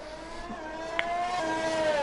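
Onboard engine of a race car in a racing video game during an Italian GP event, a steady high whine holding pitch with slight rises, mid-level and continuous with no talk.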